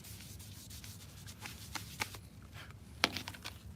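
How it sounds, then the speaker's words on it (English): A trim piece is scuffed by hand with fine sandpaper, giving soft, quiet rubbing strokes with a few sharper scrapes, close up and faint, with no voices. "I'm gonna hit it with a light coat of sandpaper, lightly scuff it up a little bit"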